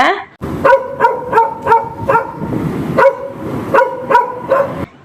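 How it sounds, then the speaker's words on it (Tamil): A puppy barks repeatedly in sharp, high yips, about a dozen in an uneven rhythm, loud and close, with brief gaps between barks. "இது ஒரு நாய்க்குட்டியோட சத்தம்"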